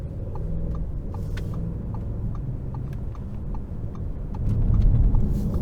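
2022 Audi S8 with a V8 engine under hard acceleration: a deep, steady engine roar heard from inside the cabin, building in loudness toward the end.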